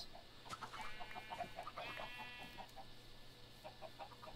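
Blocky Minecraft chickens cluck in a quick, repeated string of short clucks, fairly near and clear over a steady game background, with a second burst after a brief pause.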